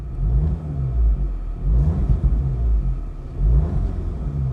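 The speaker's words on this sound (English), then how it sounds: "So in comfort mode, in automatic, if I rev the car," An Audi A1 40 TFSI in comfort mode, automatic, revs in short bursts, its engine rumbling low and swelling several times in quick succession, close by with no talk.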